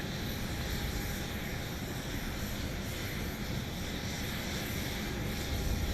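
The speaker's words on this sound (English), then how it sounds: "It's a MAX 8 coming in from Phoenix, flight 2708." Boeing 737 MAX 8 airliner on approach to land at Dallas Love Field, a steady broadband engine roar with a faint whine running through the whole stretch, fairly distant and unchanging.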